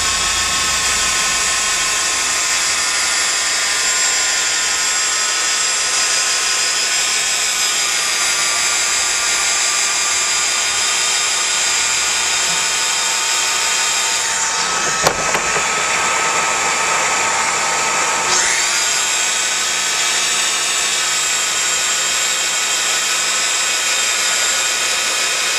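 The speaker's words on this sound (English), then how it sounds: "So I'm going to lead the weld with the preheater so that I'm heating the base material before it meets the other material." Steady loud hiss and whine of an HSK28 plastic extrusion welder with its hot air preheater running throughout, with a brief clunk partway through and no talking.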